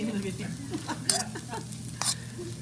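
Spoon scraping and stirring tapioca pearls through a sizzling pan for sabudana khichdi, with occasional sharper clinks against the metal, close up and moderately quiet.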